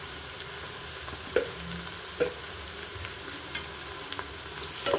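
Ginger garlic paste frying in a pan for a goat leg paya curry, a steady close sizzle broken by repeated scraping clicks of a spoon stirring it.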